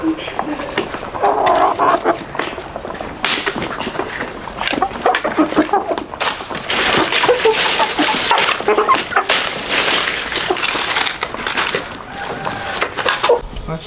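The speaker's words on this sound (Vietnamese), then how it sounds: "Vợ ơi, con đang cho gà ăn à?" Chickens cluck and squawk close by as they are fed, busy overlapping calls running throughout while people talk over them.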